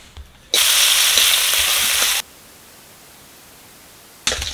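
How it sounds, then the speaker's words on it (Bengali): Salted, turmeric-rubbed koi fish hits hot oil on a village clay stove with a loud, hissing sizzle that runs for under two seconds, drops to a quiet lull, then flares up again at the end. "তেল গরম হয়ে গেছে, মাছ ভেজে নেব।"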